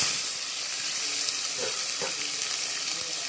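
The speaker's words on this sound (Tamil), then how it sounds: "கடுகு நல்லா பொரிஞ்சிச்சு, பச்சை மிளகாவும் வெங்காயமும் போடும்" Green chillies and onions hit hot oil with popping mustard seeds, giving a loud, continuous close-up sizzle and hiss with no talking.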